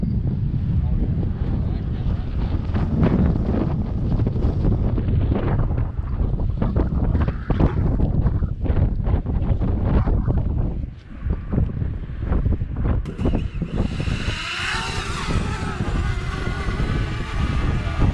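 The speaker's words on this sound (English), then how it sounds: "You can hear the wind." Strong wind buffets and roars across the microphone outdoors on a hike at Red Wing, Minnesota, with loud constant gusting throughout; a thinner, higher whine rises in the last few seconds.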